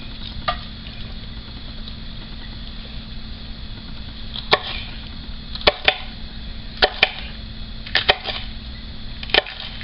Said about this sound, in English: So I'm going to get this all cut up nice and minced so that I can mix it into the mixture.